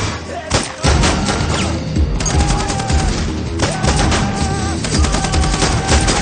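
Dense, sustained gunfire from a police encounter, loud and close, with rapid overlapping shots and heavy booming bursts running throughout without letup.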